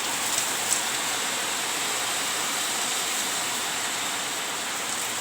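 Steady rain falls outdoors as a continuous, even hiss of drops on surfaces, moderately loud and unbroken for several seconds, with no voices heard.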